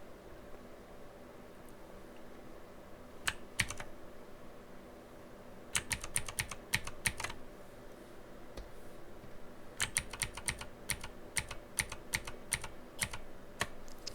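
Computer keyboard keys tapped during Photoslop-style photo editing work, arriving as short bursts of quick, crisp clicks with pauses between them, close and moderately loud over a faint steady room hiss.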